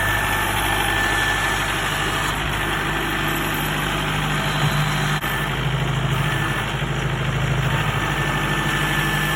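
Tractor with an LA 1154 front loader idling steadily, a continuous low engine rumble with faint vibration, close and constant for the whole stretch, no talking.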